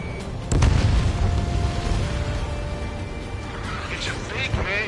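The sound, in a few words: missile explosion in video game Ace Combat 7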